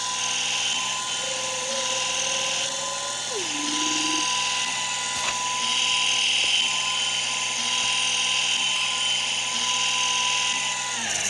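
A steady, loud farm tractor engine drone in the Roblox video game, with a high whine throughout and a brief mechanical pitch shift early on.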